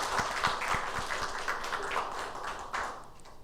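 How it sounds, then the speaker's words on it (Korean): Church congregation at a Sunday service clapping for students, a moderate burst of applause with distinct individual claps, steady then tapering off, heard in a reverberant hall. "우리 힘차게 격려의 박수 우리 학생들을 위해서."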